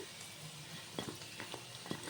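A soft, steady sizzle of snacks deep frying in oil, with a few quiet clicks and scrapes from a slotted spoon lifting pieces out.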